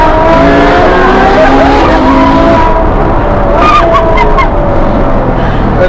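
An 800 hp Ferrari roars loud and close, its engine revving hard while the rear tyres squeal and slide, with a few sharp squeaks near the end of the run.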